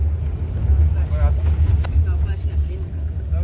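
A car drives fast on a road near Tala and Mangaon in Raigad, its engine a loud, steady low hum with road and wind noise from inside the cabin, while people talk over it.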